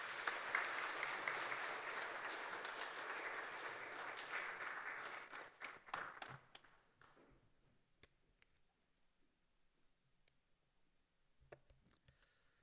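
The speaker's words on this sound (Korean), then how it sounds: "큰 박수로 축하하겠습니다." A church congregation at a Sunday worship service claps loudly for about six seconds, then the applause thins to a few scattered claps and quiet ticks in a hushed room.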